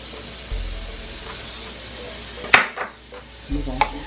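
A spoon stirs red sauce for Korean fried chicken in a pan, giving a few close scraping, clinking strokes over a soft sizzle, with brief spots of quiet between them.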